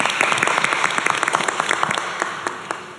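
Steady applause fills a school board meeting room, many hands clapping densely and close for the whole stretch, with no voices over it.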